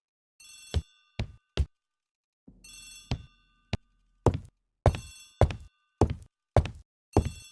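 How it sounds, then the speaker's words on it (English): An old-fashioned telephone bell in a hallway rings in short bursts, a harsh electric jangle repeating in an irregular series of rings with gaps between, fairly clear and alone without talk. "The telephone in the hall is ringing."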